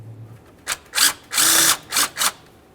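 A power tool whirs in five short bursts of rising length while removing a valve cover bolt on a 1998-2011 Ford Ranger 2.3L four-cylinder, close and isolated, with a faint hum before the first burst.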